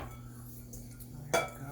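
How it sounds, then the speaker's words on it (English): Pasta salad is moved into a serving bowl over a low hum, ending in a single sharp clink of a dish or utensil against the bowl. "we're just going to put it into a little bit of a nicer bowl"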